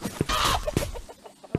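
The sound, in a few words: chicken clucking in video game A Township Tale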